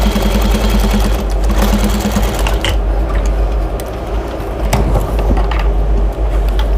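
A sewing machine runs a steady, continuous stitch through a chicken-basket drying mat edged with ruffle and bias tape, loud and close with a constant motor hum and rapid needle clatter, alone without talk.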